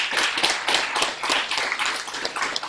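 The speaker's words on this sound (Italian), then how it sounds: "per cui chiederei un applauso" Steady applause from a crowd, dense hand claps sustained throughout without pause, fairly close and moderately loud.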